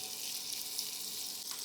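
Ginger and ground spices, red chilli, garam masala and salt, frying in a pan over a low flame, giving a steady close hiss and sizzle with no talk.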